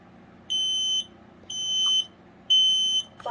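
A Kidde 3050-VDS10-A sealed lithium smoke alarm sounds its test signal: three loud, piercing shrill tones, each about half a second long, separated by short pauses, heard close with no talk.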